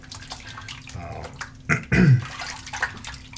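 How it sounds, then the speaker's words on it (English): Hands rinsed under running water after soap lathering, brief faint splashing and a short gush of water near the middle, close and quiet with low background noise. "Just rinsing my hands real quick."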